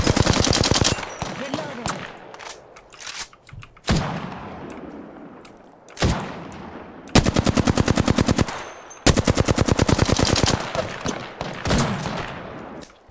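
Automatic weapon fire in Apex Legends, loud rapid bursts of repeated shots broken by short pauses and reload gaps, close and dominant throughout.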